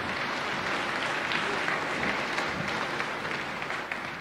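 Applause from a concert audience at a 1989 Slovenian folk music event, dense and steady clapping filling the hall at close range for the whole stretch.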